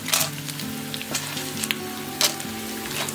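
Green chilies fry in hot oil for poha chivda, a close, steady sizzle with occasional louder crackles and spatters; a low hum runs underneath and no one speaks.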